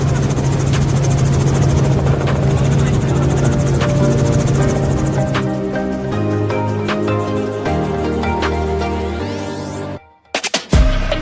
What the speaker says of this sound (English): Doors off sunrise helicopter tour this morning, one of my all-time favorite travel experiences.